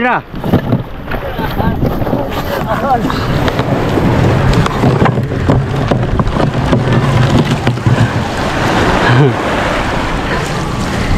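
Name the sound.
rough sea waves around a small boat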